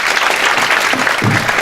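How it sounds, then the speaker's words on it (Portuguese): Loud, close audience applause in a lecture hall, dense continuous clapping throughout with a brief vocal sound near the end. "Palmas para ela."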